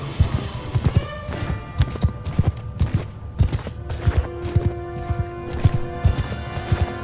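Cavalry horses gallop in a massed charge during a Mount & Blade II: Bannerlord battle. Dense, rhythmic hoofbeats thud steadily for several seconds, with clattering battle noise mixed in.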